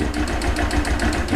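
A Honda CG 160 motorcycle engine idles with a steady low rumble and a rapid, even ticking from a knocking valve, close and fairly loud with no talk.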